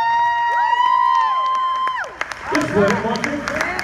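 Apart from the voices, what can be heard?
audience applause and cheering for the winner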